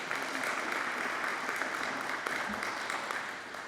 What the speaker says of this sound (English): I see Ms. Hammond is ready to applaud, so I want Ms. Hammond to have that opportunity